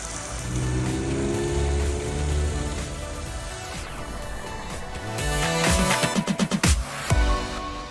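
A Honda CRX driving slowly and gingerly on a closed road, its low engine hum steady at first, then a run of sharp rhythmic bumps and clunks near the end.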